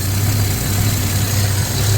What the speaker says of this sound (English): it isn't idling so fast and puking gasoline out of the carburetor like it was.